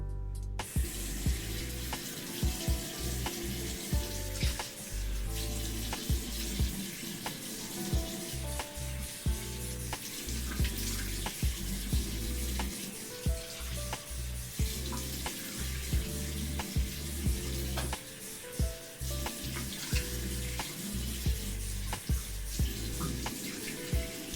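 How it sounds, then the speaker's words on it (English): Steady running water from a bathroom tap fills the whole stretch while a face is rinsed during a skincare routine, a continuous close splashing hiss with small irregular splashes and no talking. "I'm just gonna go ahead and rinse that off real quick"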